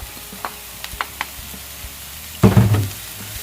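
Quiet scraping and light clatter give way to a loud sizzle as diced onions hit a hot pan, frying steadily near the end.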